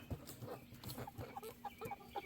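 A mixed flock of hens and roosters clucks and chatters in short, faint bursts around a farm coop, several birds calling over one another at low level.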